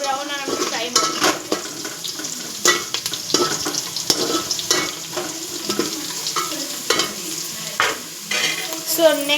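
Red onion sizzles in a hot pan, frying toward golden brown for an egg masala, with repeated sharp scrapes and clinks of a spatula stirring against the pan over a continuous crackling hiss.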